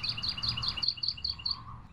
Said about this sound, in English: Now you hear the birds are chirping